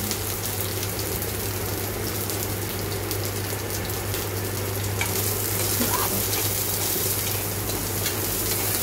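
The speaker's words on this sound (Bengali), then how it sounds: "কালো জিরেটা হালকা ভাজা হয়ে আসলে এর মধ্যে একটা রসুন আমি থেতো করে দিয়ে দিলাম" Crushed garlic and nigella seeds frying in hot oil in a pan, a steady close sizzle with faint stirring scrapes, a constant low hum beneath, no talking.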